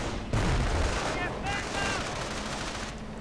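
Rapid gunfire and tank cannon shots in a World War II strategy game battle against Panzer IV tanks, a dense crackling fusillade with ricochet pings, loud and continuous under a commentator's voice.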